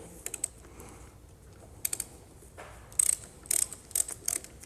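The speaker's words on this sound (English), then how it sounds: "This is where our 17 millimeter is going to come into play. And it's just going to release that banjo bolt" 17 mm wrench working a fuel line banjo bolt loose on a Cummins fuel injection pump, quiet scattered metallic clicks and short ratcheting bursts, sparse at first and then quicker near the end.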